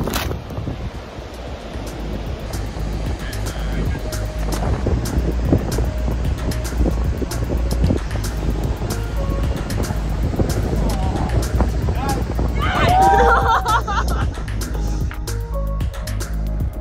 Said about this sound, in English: Coronado in the springtime is so windy